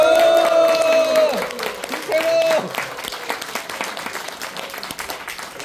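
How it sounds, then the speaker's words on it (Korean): An audience at a welfare forum in a performance hall gives a standing ovation, with dense clapping and crowd noise throughout and a sung or held tone over the opening seconds. "서양교수님의 기립박수 한 번과 함께"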